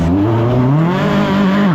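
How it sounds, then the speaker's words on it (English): A single-seater race car's engine runs rough, its steady close drone carrying a wavering, uneven pitch over a short stretch with no talking. "engine sounds a little rough"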